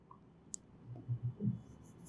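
A marker squeaks and taps softly against a board while fractions are written out, a few short scratchy strokes and clicks, faint and close in a quiet classroom setting.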